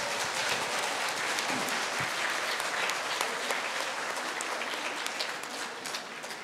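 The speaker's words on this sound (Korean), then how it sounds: "특별히 옆에 있는 아내분이 남편을 위해서 박수 한번 칩시다." Congregation at an Atlanta Korean Catholic church applauding during Mass, wives clapping for their husbands; a full, sustained wash of clapping from the crowd that holds steady and fades slightly at the end.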